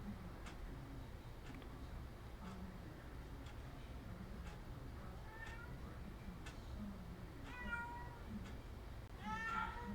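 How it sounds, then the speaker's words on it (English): A pet cat meows faintly from a distance indoors, a few rising cries late in the clip over a quiet room with a soft ticking. "my cat is crying for"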